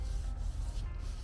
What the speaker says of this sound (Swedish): ska ta och slipa rent det,